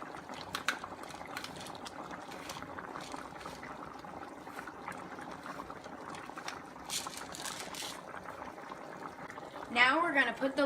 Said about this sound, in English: Now that the mixture is boiling